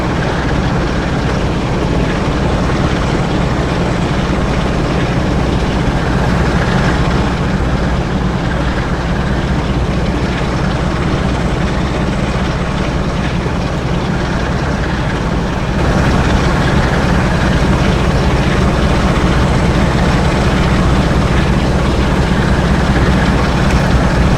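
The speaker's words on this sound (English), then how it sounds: "Now I definitely can't hear you over the sound of this engine." A locomotive engine on the Northern Trans-Pennine route in Train Sim World roars continuously, a loud, dense, steady rumble that swells slightly partway through, with no voices over it.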